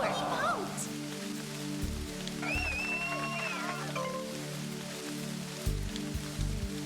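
Steady rain patters across the course in Everybody's Golf: Hot Shots on PS5, a soft continuous hiss layered under looping game music with a few brief tonal chimes.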